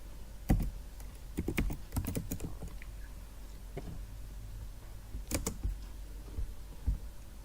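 Computer keyboard typing while working in Excel, a scattered series of sharp clicks and key taps at irregular intervals, with a few clustered bursts including a firmer enter-key press, close and fairly clear against quiet room noise.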